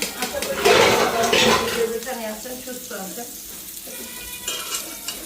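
Food frying in a wok produces a loud, close sizzle with stirring scrapes, which gradually softens while a person talks over it.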